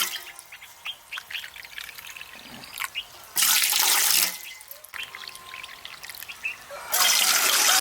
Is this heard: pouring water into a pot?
yes